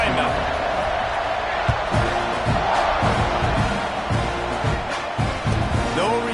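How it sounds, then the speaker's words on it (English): Stadium crowd roaring steadily in the College Football 25 video game as a kickoff is set up after a made extra point, a dense continuous cheer with a commentator talking over it. "this crowd now ready to get behind them"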